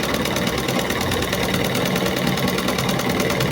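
A sewing machine runs steadily while stitching the neck piece of a blouse, a continuous close, loud mechanical whir with a fast even rhythm and no talking.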